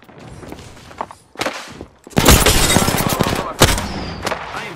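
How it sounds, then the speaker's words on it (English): Bursts of gunfire in the Apex Legends video game, with scattered shots and then a dense, loud volley of rapid firing mixed with footsteps and thuds, heard up close. "I am taking fire."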